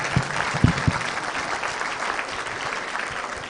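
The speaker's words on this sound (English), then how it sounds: "I think we all deserve a round of applause" A crowded conference room of attendees at a sustainability investment event applauds collectively at the end of a long day, a dense, steady wash of many hands clapping with a few sharper claps up front.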